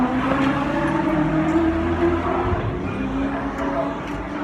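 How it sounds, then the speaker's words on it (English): Ute race car at the Newcastle 500 street circuit, heard from Turn 1 as a steady loud engine roar that holds for several seconds under faint crowd noise, with no clear rise or fade of a pass-by. "Wait for a car to go past."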